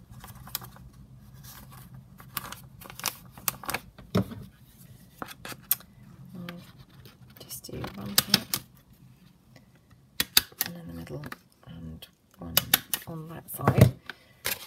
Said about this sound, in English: I might just staple this one again